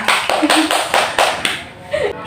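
A class claps in rhythm during a social studies lesson, five or six evenly spaced group claps close by, with a voice speaking over the final beats.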